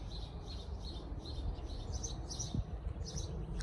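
Small birds nesting under a roof in a flower garden at a Russian park-hotel give faint, repeated high chirps over a steady low outdoor rumble, with no talk.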